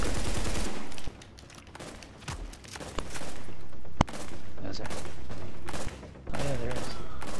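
Gunfire in a shooter video game with a sniper present, bursts of rapid shots and sharp single cracks in dense runs broken by short pauses, loud and close.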